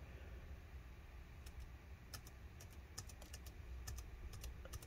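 Keys click on an Eluktronics MECH-15 G2R laptop keyboard while function-key shortcuts are tried, a quiet scatter of short taps in irregular bursts over faint background hiss.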